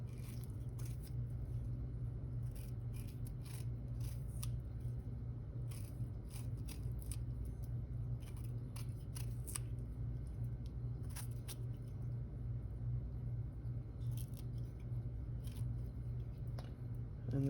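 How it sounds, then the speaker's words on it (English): A knife peels ripe peaches for a Southern peach cobbler, giving scattered, sharp scraping and slicing clicks over a low, constant kitchen hum, with no talk. "I'm peeling the peaches first."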